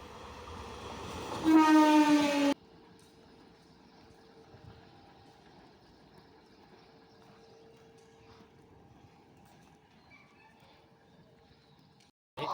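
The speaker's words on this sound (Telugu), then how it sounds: "ఇప్పుడు ట్రైన్ వెళ్ళింది, మళ్ళీ ఇంకో ట్రైన్ వస్తుంది. ఇది ఎంఎంటీఎస్." An MMTS local train at a Hyderabad railway platform sounds a loud, brief horn blast, then a steady low rumble and hum from the rail cars continues for several seconds.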